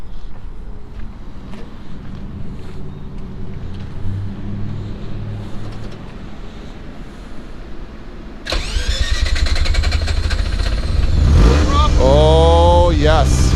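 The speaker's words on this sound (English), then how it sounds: "Let's fire this thing up." A Mazda RX7 FC rotary engine cranks and fires at about 8.5 seconds, then settles into a loud, rough idle up close after a stretch of quiet outdoor background, with a brief rev near the end.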